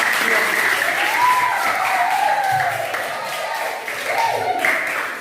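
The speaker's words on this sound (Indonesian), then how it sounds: "kita tepuk tangan untuk kelompok" A classroom group of students applauds steadily for a presenting group, a continuous patter of clapping with voices and calls mixed over it throughout.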